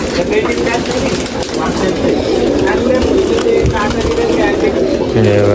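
Pigeons kept in large coop boxes in Vadala, Nashik, cooing and fluttering close by, soft repeated calls under ongoing talk from a man nearby.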